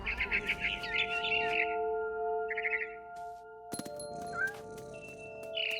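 A barn swallow in What Remains of Edith Finch chirps in quick bursts of bright twittering close by, over sustained tonal game music with a few chime-like notes. No talk is heard.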